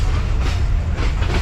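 The 40DN Jaffar Express passenger train rolls slowly through Balochistan, heard as a loud, close, steady low rumble with soft rhythmic wheel clatter.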